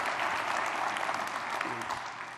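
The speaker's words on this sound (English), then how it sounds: "That's applause because you think that's good that I'm here" Convention audience applauding a longtime KOA executive on stage in Phoenix, a dense, steady wash of clapping from a large crowd, moderately distant and sustained throughout without any talk.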